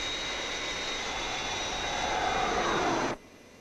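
The Fireflash airliner's jet engines roar on approach in the puppet series Thunderbirds, a steady, loud broadband whine with a high tone that swells slightly before cutting off abruptly.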